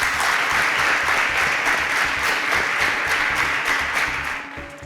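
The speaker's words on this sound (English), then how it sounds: "A round of applause for them." Studio audience applause at a Nigerian televised school quiz show, a dense, steady burst of clapping that stays loud throughout and thins slightly near the end.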